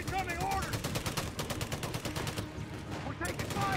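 Rapid machine-gun bursts in the Company of Heroes 3 video game, set in Italy, rattling loudly and continuously amid other battlefield gunfire, with someone talking over the firing.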